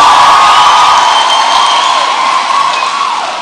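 Outdoor political crowd cheering and applauding for a local ward MCA, a steady loud wash of clapping and shouting voices fading slightly at the end.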